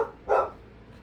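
Dogs at home give a single short bark, fairly close and moderately loud, amid quiet background.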